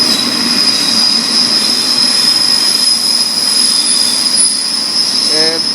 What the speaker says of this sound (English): that's the longest freight train I've ever seen in Japan.